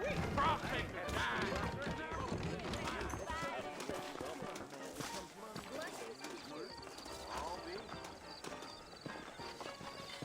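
Saddled horses in the Western video game Red Dead Redemption clip-clop at a trot, their hoofbeats steady beneath a busy layer of music and game sound, with voices talking over them throughout.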